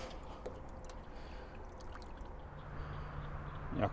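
Water trickling and pouring into a small boat through its open drain plug, a faint steady wash close by with no talking.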